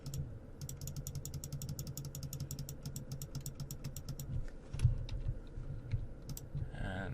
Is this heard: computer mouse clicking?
yes